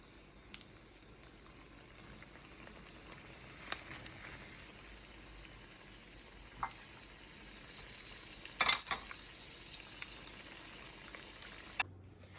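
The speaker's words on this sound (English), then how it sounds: "And let's continue frying." Soft, steady sizzling of taco shells frying in oil, with a few brief clinks and taps of utensils scattered throughout.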